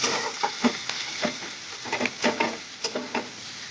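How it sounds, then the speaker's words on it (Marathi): A spoon stirs besan pithla with onion, garlic and coriander in a pan, giving a run of short close scrapes and soft sizzling bursts in an uneven rhythm, with no speech. "सगळे मिश्रण पूर्ण एकदा आपण हलवून घेऊया"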